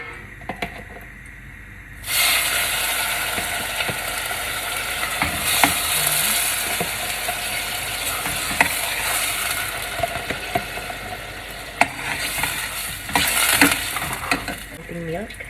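Butter and cooking oil with cream, stirred and sizzling loudly in a pan for gratin dauphinois. The sizzle starts abruptly after a quiet moment and continues steadily, with occasional clinks and scrapes from stirring.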